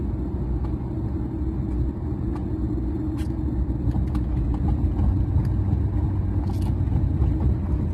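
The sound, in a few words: car driving into town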